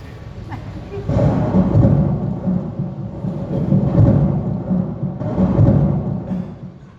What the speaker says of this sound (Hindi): तौबा है, इस तूफान ने सारा निजाम दरहम बरहम कर दिया दानियाल।